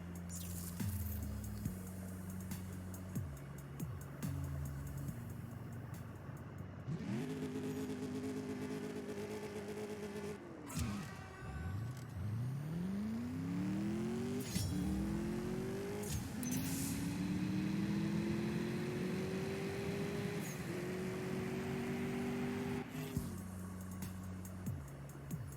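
A Mercedes-AMG S 63 Coupe in the CSR2 racing game revs hard on a dyno, its engine climbing repeatedly through the gears with sharp shift drops, loud and steady with no talk.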